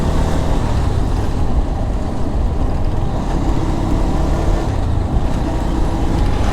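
Morning road traffic jammed at a railway crossing, a dense, steady roar of idling and creeping engines with road noise, close and continuous for the whole stretch, no voices.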